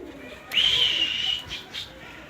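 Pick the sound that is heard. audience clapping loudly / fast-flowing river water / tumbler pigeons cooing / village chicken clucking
tumbler pigeons cooing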